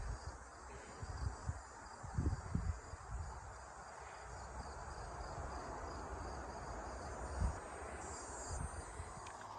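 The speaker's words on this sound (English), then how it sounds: "Listen to the cicadas." Cicadas buzz faintly in a steady high drone at a campground near railroad tracks at night, with low rumbles and soft rustling underneath.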